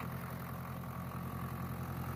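An old Case 431 tractor engine, a diesel with a broken front loader, idles steadily with a low, even rumble that holds at constant loudness throughout, with no talking.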